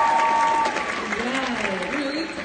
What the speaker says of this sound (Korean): 여러분 박수 주세요